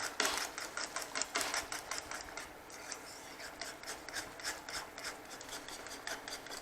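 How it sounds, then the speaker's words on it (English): White sauce of butter, flour and milk being stirred in a pan, a quick run of close, rhythmic scraping strokes that softens toward the end. "Okay, so keep stirring it."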